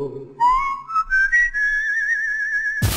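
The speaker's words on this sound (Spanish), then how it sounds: "si tú inventas una melodía chiflando" A person whistles a short improvised melody, clear and close, the tone rising and holding steady notes before a burst of noise cuts it off.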